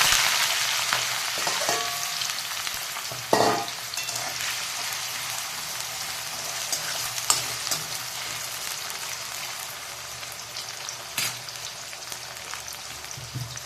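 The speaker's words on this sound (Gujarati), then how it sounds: "તેલ થઈ જાય એટલે આપણે આ બટાકા હતા ને તે અંદર નાખી દેવાનું" Potatoes frying in hot oil for an aloo palak dish give a loud, steady, close sizzle that runs the whole time, with a few brief stirring knocks and no talking.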